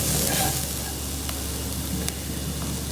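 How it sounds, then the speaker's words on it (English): Spices are stirred into sizzling chilli con carne with onions in the pan, making a continuous close frying hiss with a few soft scrape accents from the stirring, and no one talks. "you can add in the spices. Give it all a good stir."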